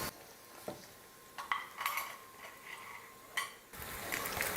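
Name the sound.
appams being turned in a kuzhi paniyaram pan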